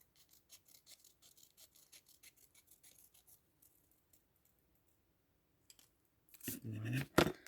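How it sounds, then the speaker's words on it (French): Scissors snip through paper for a handmade pop-up birthday card, a run of small close crisp cuts in steady rhythm, then a pause and a louder rustle of paper being handled. "je vais peut-être juste faire avec mon ciseau"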